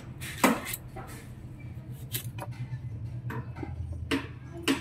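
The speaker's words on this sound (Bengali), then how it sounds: "এইভাবে আমটা আমি সব আমগুলো এইভাবে কাটি নেব" A knife slices mango into long pieces for a homemade tangy-sweet mango pickle, with a handful of sharp, close taps and cuts spaced irregularly over a low steady hum.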